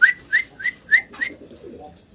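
A male fancy pigeon gives five quick, clear coos in an even rhythm, close and fairly loud, followed by a low murmur.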